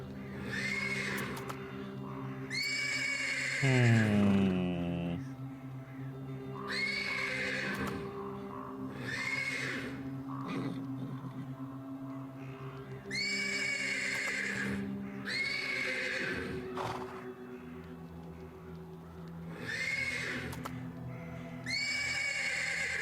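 A horse neighs and whinnies several times from a stable in a video game, long, shaky calls with breathy snorts between them, fairly close and loud against a steady low hum.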